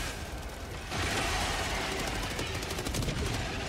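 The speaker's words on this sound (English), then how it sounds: "My Gatling gun's putting in work." A Gatling gun fires in Helldivers 2, a loud, rapid, continuous rattle that kicks in after a quieter opening second and holds steady over battle noise, with faint voices underneath.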